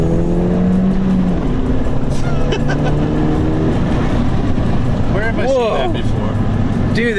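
Ford Fiesta ST hatchback driven hard, its engine note rising and falling through gears with steady road and wind roar throughout, loud and close, with a brief voice near the end.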